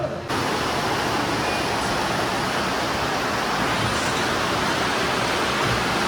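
Rain falling outdoors after a sunny spell, a dense, steady hiss of broadband noise that holds even and loud throughout after a brief quiet start.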